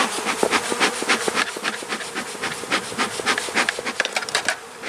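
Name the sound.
honey bees buzzing in a hive during inspection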